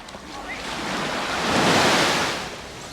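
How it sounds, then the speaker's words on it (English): Sea waves wash onto a beach at Porto Cristo, Mallorca, a broad rushing surge that swells and recedes, with some wind noise in the background. "Lovely just to listen to the sea, isn't it?"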